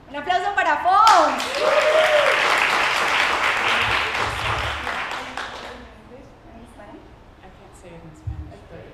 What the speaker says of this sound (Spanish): Un aplauso para Fawn.